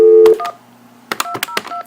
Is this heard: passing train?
no